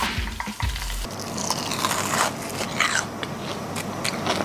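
A chicken leg fries in hot oil in a pan, a steady crackling sizzle after a few brief knocks at the start, close and fairly quiet with no talk.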